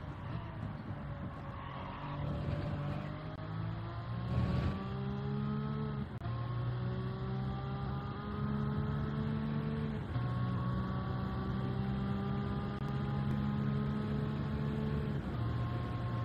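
A race car brakes into Lesmo in Gran Turismo 7, its engine note dropping through downshifts and then rising steadily again as it accelerates, loud and continuous.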